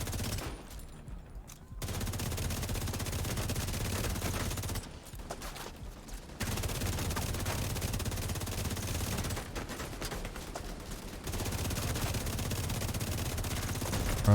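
Rapid automatic weapon fire in The Division 2, a dense continuous stream of shots in long bursts broken by brief pauses, loud and close throughout.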